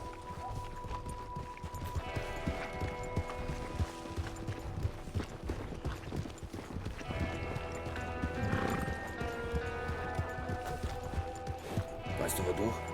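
Horse hooves clip-clop steadily while riding in the western video game Red Dead Redemption 2, under a continuous layer of game ambience and music.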